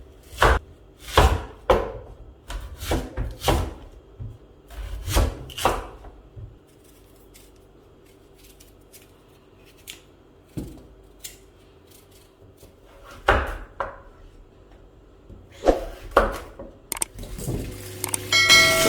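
A knife chops taro into cubes on a board for an oha soup thickener, in quick irregular bursts of sharp, close chops separated by quiet pauses, with no voices.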